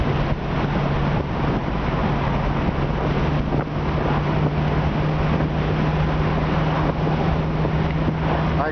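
A 1966 Ford Mustang convertible cruising at 55 to 60 mph on winding roads, heard as a steady, dense roar of wind and road noise with a low engine drone underneath, constant and close throughout.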